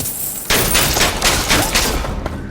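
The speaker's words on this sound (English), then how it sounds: "Don't stop firing!" Gunfire in Bioshock Infinite erupting suddenly into a dense, loud fusillade of overlapping shots and bursts, continuous to the end, no talk.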